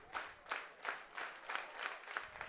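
Baseball crowd in a stadium clapping in unison during a two-strike count, a steady rhythmic beat of about three claps per second, distant and moderately loud.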